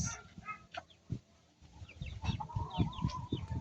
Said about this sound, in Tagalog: So here's a chicken running. So many chickens.